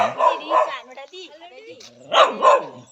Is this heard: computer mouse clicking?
no